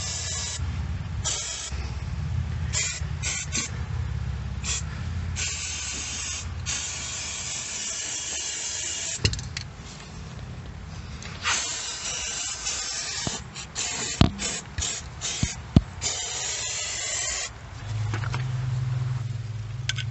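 Hissing aerosol undercoating sprayed into a 2020 Chevrolet Colorado wheel well comes in long bursts with short pauses between, close and loud, the can sputtering in quick stutters toward the end.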